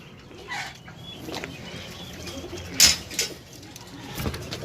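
Pigeons coo and flutter softly at close range in short, scattered calls, with one sharper burst, over low background noise.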